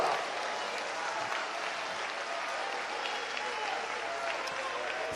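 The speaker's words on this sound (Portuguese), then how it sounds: "Se é verdade, aplauda Jesus Cristo" A Pentecostal church congregation in Brazil applauds during a sermon, a sustained, even patter of many hands at moderate distance that carries on for several seconds without pause.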